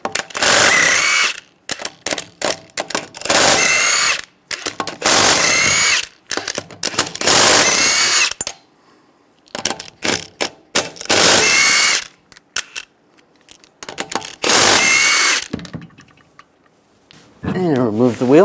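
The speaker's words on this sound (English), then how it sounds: "Using a 22mm socket, take the lug nuts off." A power impact tool with a 22mm socket spins lug nuts off a 2007-2013 Chevrolet Silverado 1500 wheel, loud repeated whirring bursts with ratcheting between them, and a voice briefly audible near the end.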